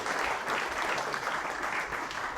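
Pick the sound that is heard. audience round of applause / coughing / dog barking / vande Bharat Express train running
audience round of applause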